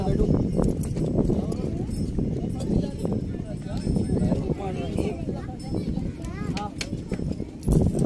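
A horse's hooves clip-clop in a steady rhythm while a rider is carried along at a sea view, with people talking loudly over the hoofbeats.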